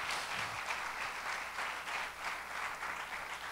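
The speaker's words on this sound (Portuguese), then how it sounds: "Você pode aplaudir ao Senhor por isso?" A church congregation applauds the Lord during a sermon, a steady dense wash of clapping from many hands that fills the room at a moderate, slightly distant level.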